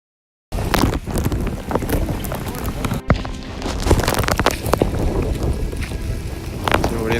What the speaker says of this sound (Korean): 지금 우리는 보트를 타고 확상한 폭포로 가는 중입니다.